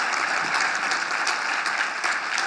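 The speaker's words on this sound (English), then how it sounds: "Can we give Andy Hargreaves a round of applause?" An audience applauds Andy Hargreaves after his talk on student engagement, sustained dense clapping at a steady, fairly loud level with no voices over it.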